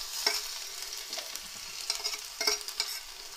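Finely chopped garlic sizzling in a spoonful of refined oil in a tadka pan, a soft close crackle with a few sharper stirring bursts.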